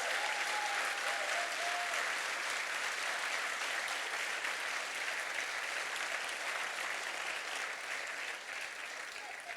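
Theatre audience applauding the technicians after an a cappella mini-concert, steady dense clapping filling the hall at moderate volume, sustained evenly throughout with no talk.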